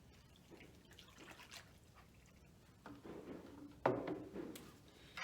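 Warm water is poured into a salt dough mix, a faint splashing trickle that swells briefly near the end against a quiet background.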